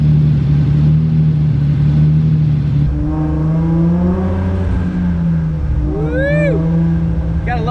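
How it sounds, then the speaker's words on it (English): A Toyota Supra's engine idles with a low drone, then revs and accelerates, the pitch climbing in rising sweeps before a sharp high squeal near the end, heard up close. "Gotta love the sound of a Supra."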